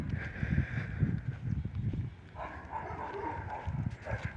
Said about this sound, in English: Lots of dogs in this neighborhood.